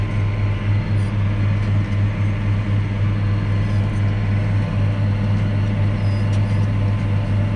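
A tractor pulling a Claas Disco mower steers itself on Sweaverken GPS, giving a steady, loud engine drone with a constant low hum and no change in pace.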